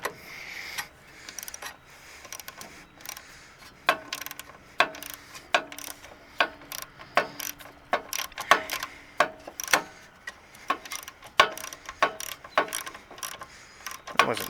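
Ratchet clicking in repeated short bursts while loosening a bolt on a 2001 Yard Man mower, close and fairly faint, with sharp metallic ticks and brief pauses between strokes.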